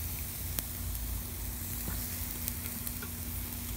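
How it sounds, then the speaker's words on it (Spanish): Carne asada and adobada meat sizzling on a backyard grill, a steady close crackling hiss with small pops throughout and no voices. "estamos echando la primera tanda de asada, de carnita asada aquí"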